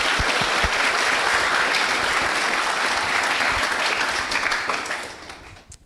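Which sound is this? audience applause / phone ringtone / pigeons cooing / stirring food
audience applause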